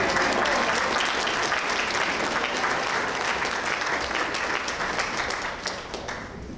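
Audience applause at a school honors day ceremony for new inductees, a dense sustained wash of many hands clapping at close range, holding steady before easing off slightly near the end.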